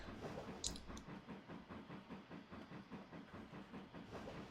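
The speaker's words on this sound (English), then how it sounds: "Have to wait for the train to pass." A train passes in Trainz Railroad Simulator 2019 on the St. Erth route, its wheels making a steady, rhythmic clickety-clack with a faint hiss over the top. The sound is fairly quiet and continuous, and no one speaks.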